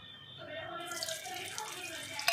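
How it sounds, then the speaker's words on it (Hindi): Ghee is poured into semolina halwa roasting in a pan, giving a steady sizzling, hissing wash that brightens partway through, close and moderately loud, with a faint voice underneath. "अब डाल रही हूँ इसमें घी"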